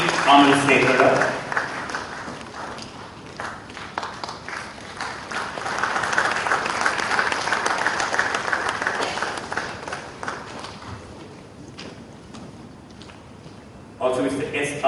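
Applause for founder members at a Founder's Day felicitation ceremony, swelling in the middle and thinning out, partly under a voice speaking before and after.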